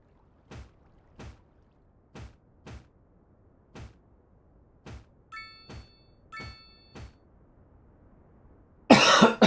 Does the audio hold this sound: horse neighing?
no